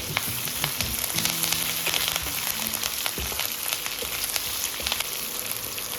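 Dried red chillies and ginger sizzling in hot oil in a pan for South Indian tamarind rice, a steady dense crackling fry with a few stirring clinks, close and continuous with no talking.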